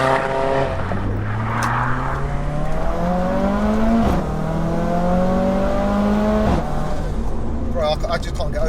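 A 630 bhp big-turbo Mercedes A45 AMG fitted with a screamer pipe drives hard, its engine note climbing through gears with loud rising whines and sharp shift breaks, heard from inside the car while people talk.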